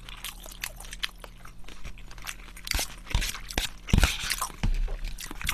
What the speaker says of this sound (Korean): 새우 하나 더 먹을게요